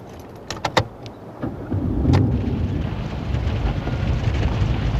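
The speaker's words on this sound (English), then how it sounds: "The engine will start up and idle over the obstacles." Jeep engine starting in low-range first gear for off-road crawling: a few sharp clicks and key rattles, then the engine catches at about two seconds and settles into a steady low rumble.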